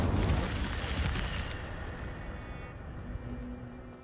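In Hogwarts Legacy, the Incendio fire spell goes off with a loud burst of flame at the start, then a roaring, crackling rush that fades slowly over several seconds.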